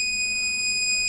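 A security system buzzer sounds a steady, piercing electronic tone that holds continuously for about a second and then cuts off, close and loud with no talk.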